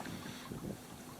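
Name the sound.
nasty gusting wind on a freezing river while Spey casting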